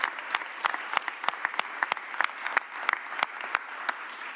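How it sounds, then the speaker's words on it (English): Audience applause for city employees at a press conference on the Eagles Super Bowl parade in Philadelphia, steady moderate clapping with distinct sharp claps standing out, continuing throughout. "let's give all those dedicated city employees and other folks a round of applause"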